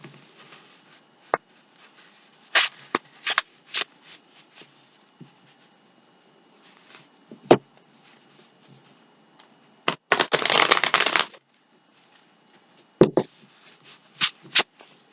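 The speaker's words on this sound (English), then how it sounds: "these cards drive me crazy. I can't shuffle them." A deck of tarot cards being shuffled by hand in repeated bursts: short riffles and taps, then a longer dense flutter near the middle and a few more quick snaps at the end, with quiet handling in between.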